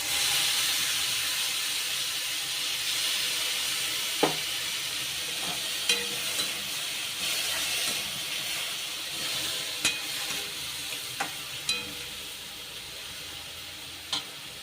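A dried prawn curry sizzles and steams in a pan after a little water is poured in, giving a steady hiss broken by a few sharp clicks of a stirring spoon against the pan.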